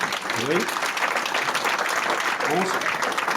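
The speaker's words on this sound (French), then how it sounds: "On s'applaudit." A live audience applauds at a foundation's 20th-anniversary celebration, steady dense clapping filling the whole stretch with a few voices rising over it.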